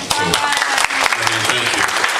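Crowd applause at a city council campaign kick-off speech, a burst of close clapping from an audience with scattered cheers, steady and lively throughout.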